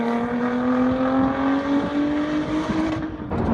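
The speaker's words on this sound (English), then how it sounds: "There we are on track in the Lotus Evora 410." Lotus Evora 410 Sport lapping a race track, a steady sustained engine drone with a rising pitch as the car accelerates, heard from inside the car at moderate level.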